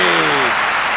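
Tennis crowd applause at the 2008 Japan Open semifinal between Roddick and Berdych, a broad steady wash of clapping filling the second, with a brief tonal voice trailing off underneath in the first half.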